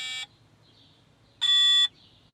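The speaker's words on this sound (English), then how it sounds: "you get the audible alarm that tells you the picture is being taken" A Manitowoc crane's onboard service interface screen sounds two short, sharp electronic alarm beeps as a screenshot is taken, about a second apart, clear against a quiet background.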